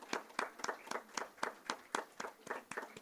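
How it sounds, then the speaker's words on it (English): An audience at a women's climate action event claps in a steady run of distinct, evenly spaced hand claps, moderately faint and somewhat distant, with no talking over it. "A huge round of applause for these brilliant"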